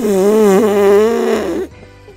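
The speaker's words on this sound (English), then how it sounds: "Quilladin, did you just blow a fart?" A cartoon fart sound effect from a Pokemon cartoon, a single loud, buzzy, sustained blat with a wobbling pitch, lasting under two seconds before cutting off.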